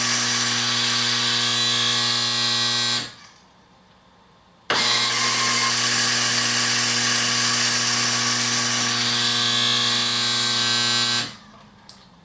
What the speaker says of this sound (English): Just run it 3 times and let it fill up the full auger.